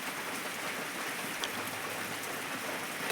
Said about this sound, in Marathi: वारं पण लय सुटले पाऊस